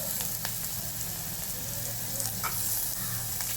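Onion fried to golden brown with roasted spices sizzles steadily in a pan while cooking oats and mixed-vegetable khichdi, a close, even crackle with small pops and no talk.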